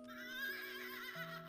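A horse whinnies in a long, wavering neigh that rises and falls, heard clearly over a faint steady tone.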